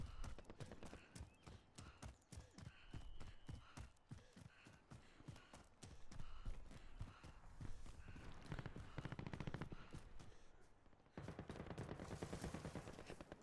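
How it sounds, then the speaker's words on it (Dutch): Rapid gunfire in a battle royale video game crackles in dense repeated bursts, some single shots and some fast volleys, loud and continuous with no talk over it. "Hier zijn schoten."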